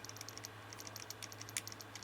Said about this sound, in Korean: 다시 키보드 방향키 아래쪽을 눌러 내려와 주세요